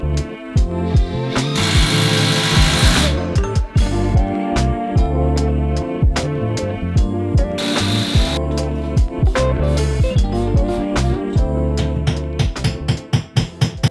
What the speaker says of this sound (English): I drilled some pocket holes before building the framing just to prepare for that